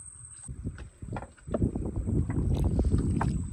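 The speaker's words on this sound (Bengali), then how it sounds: "ভাটার জলে জলেই আমরা কিন্তু এখন নৌকাটা নিয়ে এগোচ্ছি" Rowing boat moving downstream on a river on ebb tide, with splashing and knocking of oars or hull building up over a few seconds amid wind buffeting the microphone.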